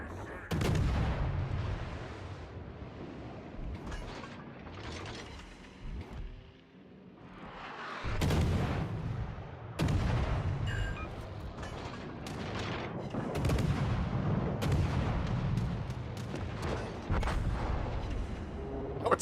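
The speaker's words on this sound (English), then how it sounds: "When are these guys gonna notice me over here when I fire my guns at them?" Heavy naval guns fire in a warship video game, with repeated loud booming salvos and broadband blasts spread across the stretch, some rolling rumbles between shots, and faint voices now and then.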